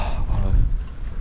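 Strong wind gusts buffet the microphone at a small harbor during a bike tour in Sweden, a loud, rumbling roar that fills the short moment without any talk.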